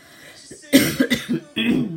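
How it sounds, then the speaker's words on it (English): A few short, sharp coughs in quick succession, close to the microphone, followed by a brief throat-clearing sound. "excuse me if I cough, I don't mean to"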